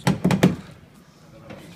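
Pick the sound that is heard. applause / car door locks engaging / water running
car door locks engaging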